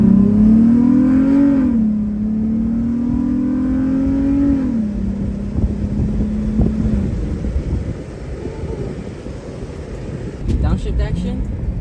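Car fitted with a cheap eBay intake pulling hard in first gear, heard from inside the cabin: engine note climbs loudly, holds a steady drone, then eases off under wind noise with a brief mechanical clunk near the end.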